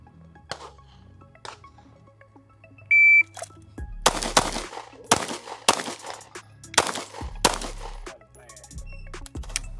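Sharp, loud pistol shots from a Staccato P fired in an accelerator drill, six rapid reports in quick succession after a brief start beep, each crack echoing outdoors on a range.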